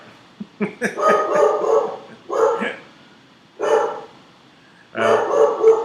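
A dog barks several times in short bursts, close and fairly loud, with gaps of quiet between the barks.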